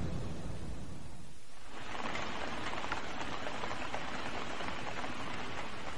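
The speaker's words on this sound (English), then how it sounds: "It's a rainy day in Miyazaki, South Japan." Rain falls steadily on a rainy day in Miyazaki, southern Japan. After a quieter opening moment it becomes a dense, even hiss that continues to the end.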